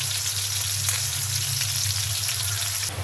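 Fish, already flipped, frying in hot oil: a dense, even sizzle close by that holds steady to the end, with faint crackles and no talking.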